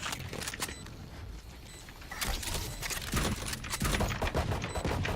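Gunfire in the Valorant video game, a spread of sharp broadband shots and bursts at mid distance, growing denser and louder through the second half with no talk.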